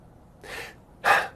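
A person imitates fast, shallow, stressed breathing with two quick audible breaths, the second sharper and louder, close to the mic and alone.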